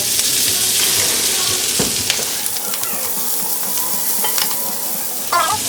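Food frying in a cast iron pan gives a steady bright sizzle throughout, with the scrape of stirring and a few clinks of a utensil against the pan, and no talking.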